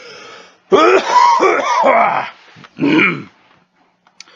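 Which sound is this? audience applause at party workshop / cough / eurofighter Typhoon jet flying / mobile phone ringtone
cough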